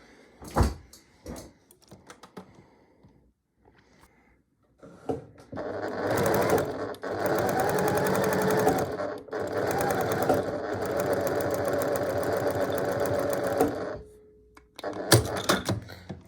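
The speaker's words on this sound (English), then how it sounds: "I'm just going to sew this shut like this" A sewing machine stitching a fabric pot holder's hanging loop shut, starting with handling clicks and thumps, then a long, steady mechanical whir with a brief pause, and ending in more close clicks.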